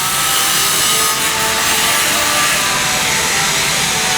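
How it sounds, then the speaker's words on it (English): A worker sands down metal railing at a construction site, and the abrasive grinding hiss runs loud and unbroken, close by, with no voices over it. "Another guy over here sanding everything down, making it smooth before they do the welds."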